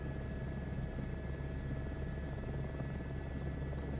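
A helicopter flying over the Grand Canyon in Microsoft Flight Simulator 2024 gives a steady, even rotor drone and engine whine at constant loudness, with no voices.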